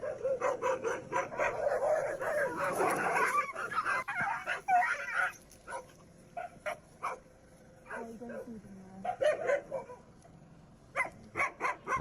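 Several dogs, a Rottweiler among them, bark in irregular bursts, loud and close at first, then as sparser sharp yips and barks, with a voice speaking over parts of it.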